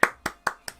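Four sharp hand claps in quick, even succession, close and fairly loud, with brief decays between them and no voices.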